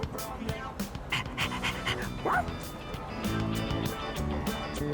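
Stray dog in the video game Persona 3 Reload barking and panting amid game music and sound effects, with a brief whimpering yip near the middle, fairly close and moderately loud.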